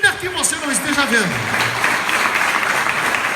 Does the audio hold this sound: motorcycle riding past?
no